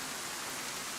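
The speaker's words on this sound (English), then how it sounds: "normally with rain you get about 20 minutes of it" Steady rain hisses in DayZ, a dense even wash of falling drops with no breaks, moderate in level and uninterrupted.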